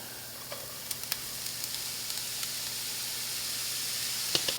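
Steady sizzling of mushrooms frying with garlic and shallots in a hot pan, a continuous crackling hiss with occasional sharper pops, no voices.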